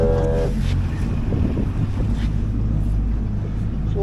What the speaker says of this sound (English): Lift my engine up a bit.